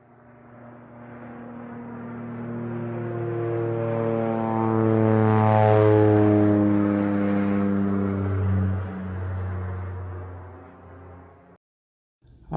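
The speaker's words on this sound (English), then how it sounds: "We're going on a plane." Propeller airplane engine in flight, a steady droning roar with strong harmonic tones that swells toward the middle and fades before ending abruptly; no talk.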